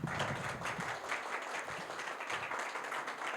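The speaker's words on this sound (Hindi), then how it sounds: "दोस्तों तालियां बजाओ" An audience at a talk on quitting addiction claps together in a sustained, fairly soft patter of applause that goes on steadily with no voices over it.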